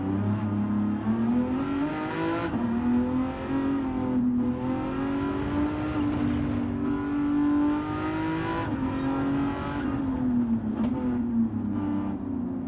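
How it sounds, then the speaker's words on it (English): V12 car engine in a racing video game holding a steady, droning note with gentle pitch swells as revs rise and fall, loud and continuous throughout with no talking. "The noise is interesting. It's not... It's not a typical V12 noise."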